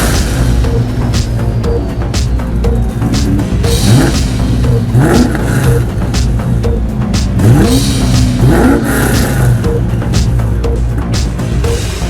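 A car engine revs up and down in repeated surges, loud and close, over a steady low rumble with some clatter, in a toy or model setting.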